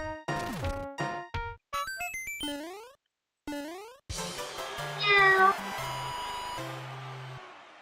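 Cat meows in a Super Mario Maker 2 level, several bright chirpy meows mixed with game music, chimes and clattering effects, moderately loud.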